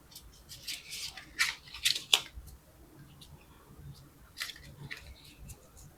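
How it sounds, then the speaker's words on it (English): Tarot cards being shuffled by hand, a run of soft papery riffles and slaps with a few sharper card snaps, close and moderately quiet, with no talking. "Let me shuffle more."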